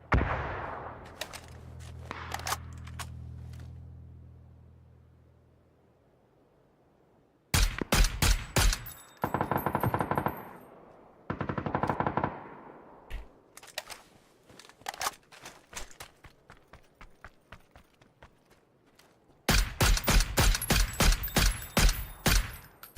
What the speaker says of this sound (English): I started shooting too fast.